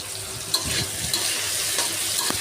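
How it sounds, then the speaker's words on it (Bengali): Spices, including chili powder, fry in a pan with a steady, close sizzle, broken by a few light stirring scrapes. No one speaks. "যে মশলাগুলো দিয়ে যে আমি ভালো করে একটু ভেজে নিচ্ছি"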